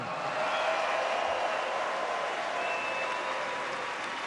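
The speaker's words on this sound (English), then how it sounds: "one last cheer for Novak and Andy after the 2016 Australian Open final" A large stadium crowd at the 2016 Australian Open tennis final gives sustained, dense applause with cheering, an even roar of clapping that holds loud from start to finish.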